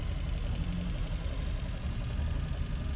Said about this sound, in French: Et là vous allez entendre le son moteur maintenant